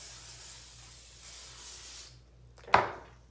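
Hairspray is sprayed over styled twistout hair, a steady breathy hiss lasting about two seconds, then a short sharp burst near the end, close and with no talk.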